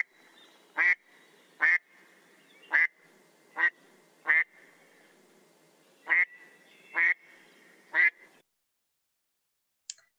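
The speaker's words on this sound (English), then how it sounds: "so that's the American black duck. Okay. Oh, it's quacking again." An American black duck gives eight loud, separate quacks spaced about a second apart, each a rough nasal burst, with quiet background between calls and a faint click at the very end.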